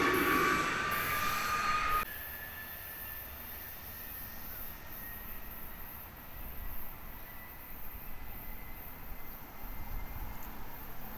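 An Amtrak Keystone passenger train with a cab car at the rear rumbles steadily past nearby at Lancaster station, a low continuous roll of wheels on track with a faint metallic ring, preceded by a brief louder burst.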